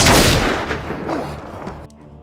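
A loud, booming blast right at the start, its roar rolling and slowly decaying into rumbling debris before cutting off near the end.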